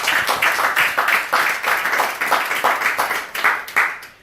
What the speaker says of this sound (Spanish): dale un aplauso al Señor Jesús.